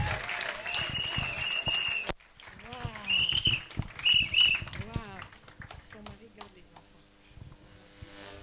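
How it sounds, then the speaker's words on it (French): Applause for a testimony at a church meeting: a crowd claps steadily for several seconds, with voices and shouts mixed in, before the clapping thins out and fades under the murmur of the room. "On peut acclamer le Seigneur pour l'encourager"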